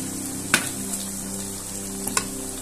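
French fries in hot oil give a constant bubbling sizzle, with a sharp clink near the start and two quick taps later.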